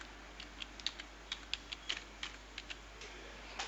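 A word is typed on a computer keyboard: a quick run of light, crisp key clicks in an irregular rhythm, faint and close, with no voices.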